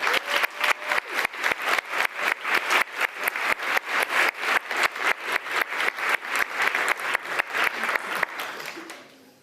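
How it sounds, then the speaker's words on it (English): Audience applause for the student game team Some Like It Cold at a university game programming lab final presentation, steady dense clapping throughout with a slight swell near the end before it fades out. "Big applause for Some Like It Cold"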